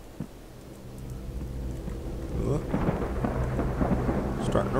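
Rain in the Monochroma video game, starting soft and swelling into a dense, heavier downpour, with low rumbling thunder building in the background.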